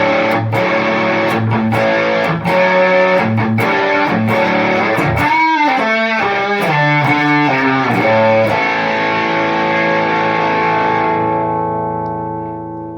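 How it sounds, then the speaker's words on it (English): An electric guitar plays through a Donner Verb Square 7-mode reverb pedal with distortion: picked notes and chords, loud and close, then a final chord that rings out and slowly decays. "Really, really good distortion pedal."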